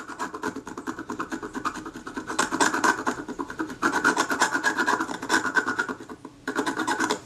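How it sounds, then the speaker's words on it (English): A blade scrapes old adhesive off the body of a Kodak Retina IIIS camera in short, repeated rasping strokes drawn toward the worker, close and continuous with slight pauses. "I prefer to scrape towards me like this"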